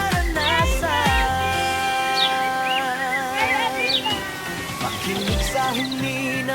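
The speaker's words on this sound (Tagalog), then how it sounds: "Makinig sa huni ng mga ibon" Varied bird calls and chirps, some sliding whistles and a cat-like meow, overlap at close to middle distance inside an indoor bio dome, with a soft background hum and music-like tones.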